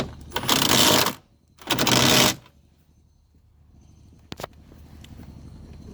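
Socket wrench ratcheting on a 10mm nut on the passenger door of a 2007-2014 Mercedes W216 CL-class, two loud bursts of rapid clicking about a second each, then quiet with a single sharp tap later.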